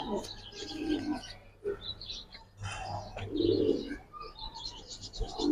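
Giribaz and coloured pigeons coo in a loft in Bangladesh, with several soft, repeated low coos and scattered chirps close by amid quiet background noise.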